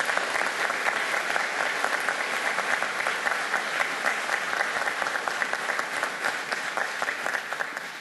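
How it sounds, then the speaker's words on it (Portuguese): Sustained applause from a large audience gathered for a ceremony honouring veterans, dense steady clapping filling the whole stretch at an even level with no voices on top. "Uma salva de palmas."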